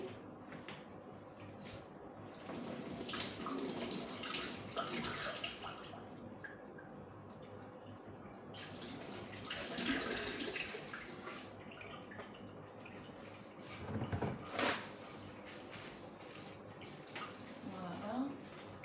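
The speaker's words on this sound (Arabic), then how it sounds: "دوكا نغسل البيضات تاوعي،" Eggs are washed under running water at a kitchen sink: a close splashing stream with drips and small knocks, rising and falling over about twenty seconds, while a person talks at times.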